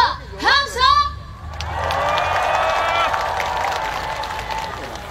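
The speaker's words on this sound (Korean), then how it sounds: "더 크게 박수와 함성!" A brief voice comes first, then a large crowd at a trot concert in Ulsan breaks into sustained cheering and clapping with high whoops and whistles, loud and steady to the end.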